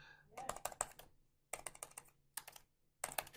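Bursts of typing on a computer keyboard while formatting data in Excel, quick clusters of close, crisp key clicks separated by short pauses.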